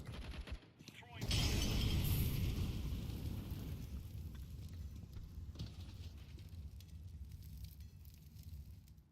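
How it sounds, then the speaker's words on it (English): Flashbang grenade going off in a shooter game, a sudden sharp bang followed by a loud hissing, crackling roar that slowly fades over several seconds, fairly faint overall. "throwing flashbang."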